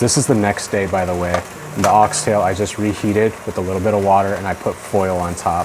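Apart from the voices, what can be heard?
tortillas with oxtail sizzling in a pan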